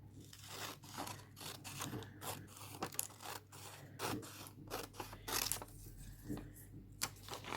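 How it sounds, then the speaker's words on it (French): Scissors snip paper strips for an origami box, a close run of quick, irregular crisp cuts and rustles at low volume with no talking. "on va la plier en deux. Et on va couper de chaque côté"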